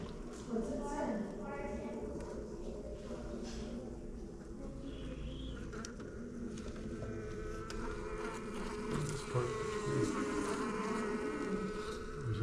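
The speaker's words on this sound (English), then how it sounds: "If you listen carefully, you can hear the buzzing." A steady buzz of bees around a hive hums continuously beneath background chatter and outdoor bustle in Bear Creek Lake Park, Lakewood, Colorado, with occasional clip-clop sounds mixed in.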